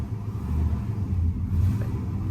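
A 1999 Toyota Land Cruiser with over 555,000 miles runs steadily and loudly up close after a rough, fuel-starved start, its engine rumbling in an even idle with the service engine light on.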